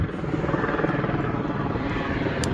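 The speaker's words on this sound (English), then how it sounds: "Sorry about the helicopter noise, but we are quite close to Shoreham Airport." A helicopter's rotor thuds in a rapid, steady chop, loud and close, with a broad rushing roar passing near overhead by a small muddy river near Shoreham Airport, UK.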